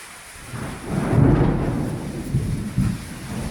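A deep thunder rumble swells and rolls over steady night rainfall in Siddhantapura, with a couple of fainter rumbles following as the rain keeps hissing.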